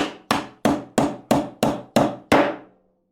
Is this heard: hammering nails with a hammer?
yes